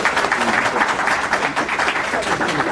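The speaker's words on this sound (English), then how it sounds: "Clap it up for him." Steady applause from an audience, a dense wash of clapping that holds at an even level throughout.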